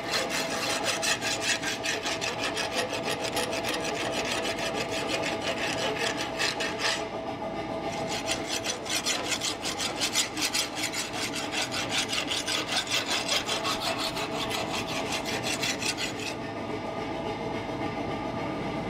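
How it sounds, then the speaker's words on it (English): Forged steel meat fork tines are hot rasped with a file, a continuous coarse scraping made of rapid repeated strokes that is loud and close, with brief shifts in texture and no talk. "now I want to hot rasp them to give them like a nicer finish without having to do much grinding"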